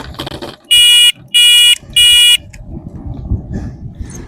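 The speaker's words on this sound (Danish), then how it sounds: "man kan bare høre det der dythorn" An air horn blasts three times, loud, piercing and close, in evenly spaced honks of about half a second each, followed by quieter outdoor rustle.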